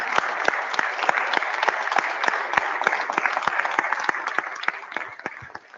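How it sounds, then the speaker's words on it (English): A conference audience stands and applauds a professor with steady, sustained clapping from many hands that stays fairly loud and close, then tapers off at the end. "I'd like to request us to stand up and clap for him."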